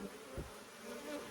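Honeybee buzzing from an opened hive colony during a colony merge, a steady low hum of many bees close by with a brief louder swell.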